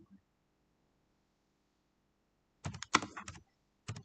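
Fingers tap on a computer keyboard in a quiet room: after a long silence, a quick cluster of key clicks, then a couple more keystrokes at the end, close and fairly soft.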